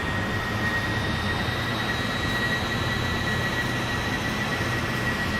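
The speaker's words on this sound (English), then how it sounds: "Let's take off." Airliner accelerating for takeoff on a Ghana to Nigeria coastal flight in Microsoft Flight Simulator, a loud continuous jet engine roar with broadband rushing noise and steady high whining tones, no talking.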